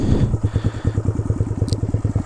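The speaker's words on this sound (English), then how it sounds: "let's do an idle comparison. So you're just idling right now." A 2022 Honda Grom motorcycle with cam, intake and ECU modifications idles close by with a fast, steady, lumpy putter.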